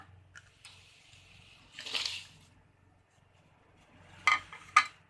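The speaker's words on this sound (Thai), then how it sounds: "ต้มน้ำเดือดแล้วมาใส่เลยจ้ะ" Watery splashes and clinks of chicken feet and mushrooms dropped into a pot of boiling water for curry, a few separate bursts with quiet gaps between them, close by with no talking.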